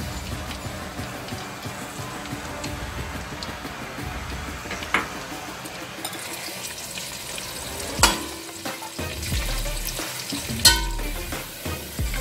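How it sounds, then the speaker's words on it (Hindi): Sliced onions frying in hot oil with bay leaf for kabsa, a steady soft sizzle with occasional louder stirring scrapes and clatters, close up and continuous. "अब मैं प्याज डाल रही हूँ स्लाइस्ड"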